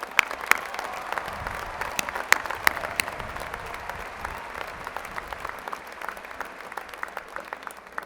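A large crowd at the UNC-Chapel Hill 2014 spring commencement ceremony applauds the graduates, with steady, dense clapping and scattered sharp claps throughout a broad, reverberant hall.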